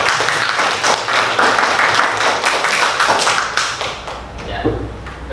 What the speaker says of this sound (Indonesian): Bisa kasih tepuk.